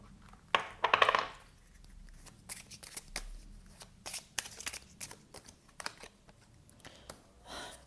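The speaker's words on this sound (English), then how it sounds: "So I'm going to get some Oracle cards as well." A deck of oracle cards is shuffled by hand up close, a quick riffling burst followed by softer flicks, taps and sliding card sounds in an otherwise quiet room.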